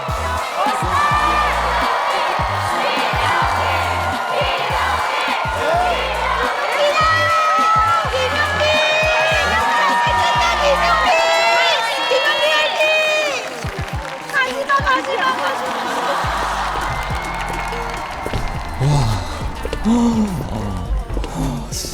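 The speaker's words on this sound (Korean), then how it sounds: "여러분 응원의 박수를 부탁드립니다" Studio audience at a televised Korean trot singing competition semifinal applauds and cheers after a traditional trot performance, a loud continuous roar of clapping and whoops with voices speaking over it throughout.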